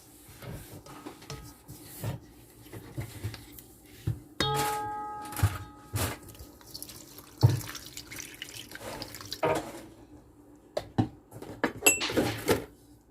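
Water poured from a tap and stirred by hand with salt and yeast to make artisan bread dough, with intermittent splashing, running flow and scraping mixing noises nearby and no voices.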